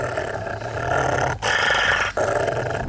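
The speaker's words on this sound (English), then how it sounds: "Few species of dog have the reputation that comes with a Rottweiler." A Rottweiler growls in a low, sustained, menacing rumble, close and loud, with two brief breaks in an otherwise continuous snarl.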